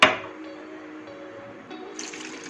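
Milk pouring from a cup into chocolate pancake batter: a steady liquid pour with a short splashy onset, continuing evenly for a couple of seconds and brightening near the end, with no talk.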